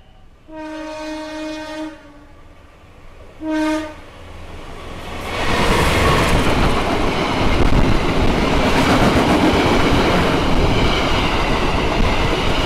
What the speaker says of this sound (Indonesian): itulah kereta Serayu